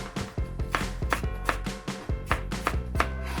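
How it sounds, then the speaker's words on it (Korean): A kitchen knife chops carrots into thin julienne strips and slices mushrooms on a cutting board, making a quick, uneven series of close, crisp thuds and taps with no talking. "당근을 조금만 이렇게 채쳐주세요. 하나 버섯버섯 이렇게 썰시면"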